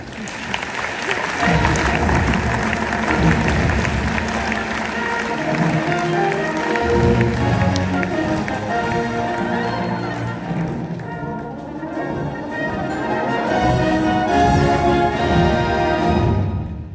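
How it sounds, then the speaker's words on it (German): Large-hall applause at the closing ceremony of the 5th CISM Military World Winter Games in Lucerne, 2025: a sustained, dense crowd roar mixed with loud music that carries on throughout. "Give a big hand."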